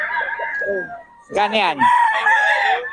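A three-year-old Pumpkin Sweater gamecock rooster at a market, crowing loudly and close by after someone speaks briefly, with clucking and other crowing around it.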